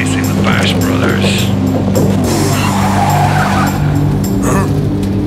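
Animated race cars roar past at speed with tires squealing and skidding, a loud, continuous engine whine under voices talking over it.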